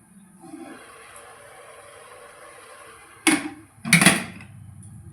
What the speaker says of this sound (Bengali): তারপরে জল দিয়ে দেবো সামান্য 1-2 মিনিট মতো।